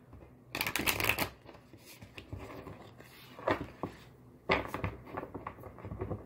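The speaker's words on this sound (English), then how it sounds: "So I'm going to do one more shuffle." A deck of cards is shuffled in several quick riffling bursts, close and crisp, with short pauses between shuffles.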